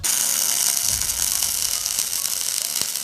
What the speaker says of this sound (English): Made it to where we were able to weld that gap all in one pass